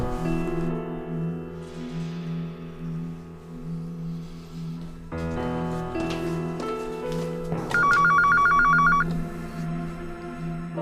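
A telephone rings during a call, with a bright trilling ring-tone burst standing out near the end over a steady musical background; no speech is heard.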